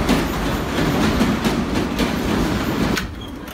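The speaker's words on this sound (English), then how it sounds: "Time to get on a real working subway." A New York City subway train rumbles steadily, its wheels clacking in a faint rhythm, then the roar drops off near the end. No one speaks.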